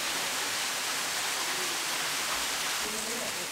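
Wonhyo Falls near Soyosan, a mountain waterfall: a steady, full rushing roar of falling water, constant and unbroken throughout with no voices.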